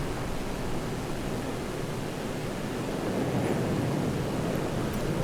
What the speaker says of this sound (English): You can hear a lot of wind.